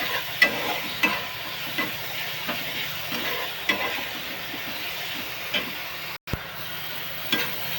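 Onion and tomato roast in a pan, a soft steady sizzle broken by repeated scraping clicks of a spatula stirring, with one sharp clunk near the end.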